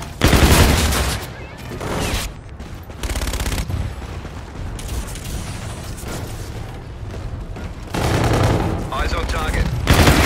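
Gunfire in a shooter video game featuring the UMP submachine gun: loud bursts of rapid shots in several clusters separated by brief lulls, close and punchy, with game radio voice chatter in the background.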